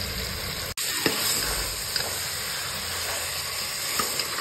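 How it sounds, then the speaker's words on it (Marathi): Mutton sizzles steadily in hot oil, a soft continuous hiss broken by occasional faint pops and clicks, with a brief dropout near the start. "तेलामध्ये मटण चांगलं परतून घ्यायचं आहे"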